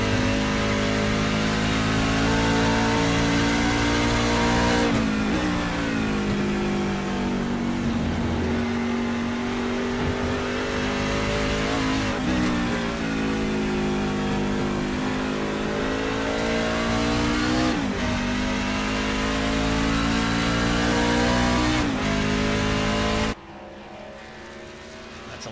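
A race truck in a racing video game at Watkins Glen revs loudly through repeated gear shifts, each pitch climb breaking off and restarting, until it cuts to quieter coasting near the end.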